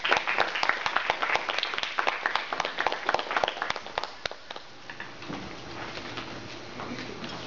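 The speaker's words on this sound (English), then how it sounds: "Guys, a round of applause." An audience claps enthusiastically at an evening Toastmasters-style session, a dense rapid patter for about four seconds that thins into scattered claps and then fades to quiet room tone.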